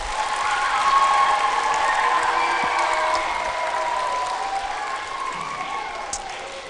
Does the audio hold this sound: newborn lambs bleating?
no